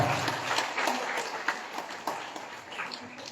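A crowd at a Day of the Dead event in Ejido la Subida, Ciudad Valles, claps for an introduced guest, a thin, scattered applause heard from a distance that fades out over a few seconds.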